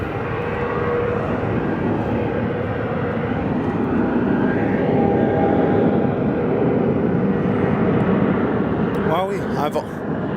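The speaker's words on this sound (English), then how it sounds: "This is another aircraft I've actually flown on" A passenger airliner moves at Phoenix Sky Harbor airport, giving a steady broadband roar that holds loud through the whole stretch, with a short burst of brighter sound near the end.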